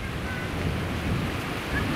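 Incoming tide waves wash softly onto a seaside shore, a low steady surf with light wind noise on the microphone.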